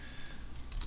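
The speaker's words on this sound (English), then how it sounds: "you're going to type ATC1 and hit enter" Quick, faint keystrokes on a computer keyboard as a modem command is entered, a brief patter of a few taps with a slightly firmer press at the end.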